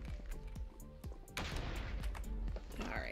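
Repeated blasts and crackling bursts from explosions in Minecraft, rendered as dense, loud, overlapping booms that grow heavier after the first second and continue without a break to the end.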